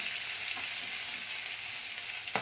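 Chopped onions frying in hot oil while cooking chapati noodles, a continuous close bright sizzle with light stirring, ending with a soft clatter.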